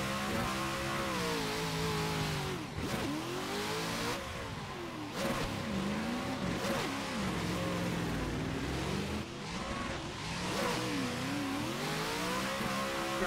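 Car engine revving high in a tandem drifting video game, its pitch rising and dipping in repeated sweeps as the throttle rises and falls, loud and continuous with tire and exhaust texture underneath.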